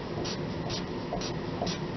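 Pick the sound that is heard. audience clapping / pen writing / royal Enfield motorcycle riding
pen writing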